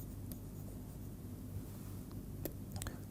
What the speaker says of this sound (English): I will erase this.